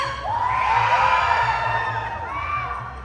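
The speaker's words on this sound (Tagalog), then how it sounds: "Pwede mo marinig yung sigaw niya!" A concert crowd at a P-pop show shouts and cheers, a loud sustained wash of high-pitched screams and whoops rising and falling over a steady low rumble.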